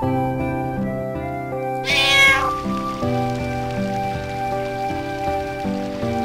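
A cat in Final Fantasy IX lets out one drawn-out meow over steady background music and a soft patter like rain.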